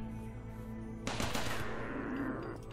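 Turrets open fire in the colony-building video game RimWorld, starting about a second in as a rapid, dense burst of gunfire over a steady background hum.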